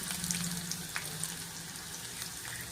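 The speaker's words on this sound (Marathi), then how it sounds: "अशी छान अशी खमंग फोडणी झाली आहे आपली" Garlic and ginger pieces sizzle in hot tempering oil, a faint, steady crackling hiss with a low background hum and a few small ticks, heard alone without speech.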